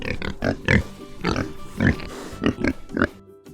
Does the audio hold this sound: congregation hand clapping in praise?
no